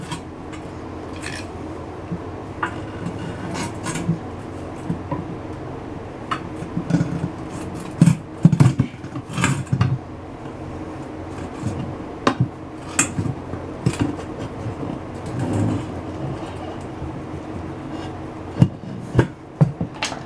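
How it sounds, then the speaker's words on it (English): ATV tire being pried onto its rim with a screwdriver, heard as scattered metallic clinks, scrapes and taps of varying loudness close by, with no talking. "Start taking little bites with your screwdriver. Just start prying it over."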